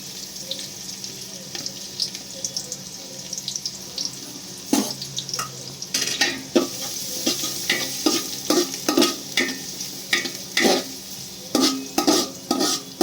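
Chopped onion hits the pan for veg fried rice, a soft sizzle bed followed by a run of sharp, repeated spatula scrapes and clanks growing busier in the second half.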